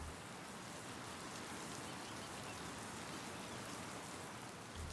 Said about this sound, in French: la pluie recouvrait toute la baie de son lourd manteau gris